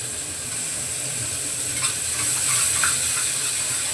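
Onion and tomato frying in a pan with curry leaves, giving a steady, close hiss and sizzle that swells slightly midway, with faint stirring clicks.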